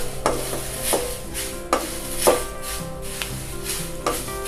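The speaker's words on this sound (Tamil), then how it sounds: "ஹேர் டை நல்லா வறுக்கட்டும், கிண்டிக்கிட்டே இருக்கணும்." Onion peels roasting dry in a pan for homemade hair dye, stirred with repeated scraping strokes in an uneven rhythm over a faint sizzle, close up.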